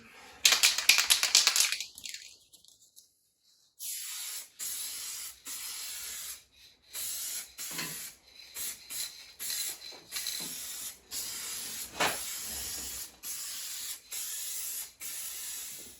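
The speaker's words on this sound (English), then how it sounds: "Okay, so I have applied the top coat" Aerosol spray paint hisses as a top coat goes onto the rocker panels of a Jeep Cherokee XJ, in a short burst, a pause, then many quick close bursts and longer sprays with clicks between them.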